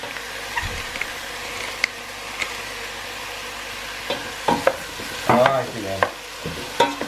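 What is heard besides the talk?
stirring tomato soup in a pot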